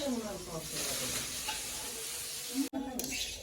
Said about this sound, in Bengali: তার জন্য মুগের ডাল ভেজে নেওয়া হচ্ছে